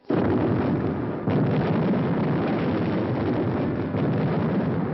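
Wartime dynamite blasts set off by guerrillas against invaders' supply and communication lines, a sustained loud roaring rumble of explosions with a sharp burst near the start, filling the whole stretch without voices.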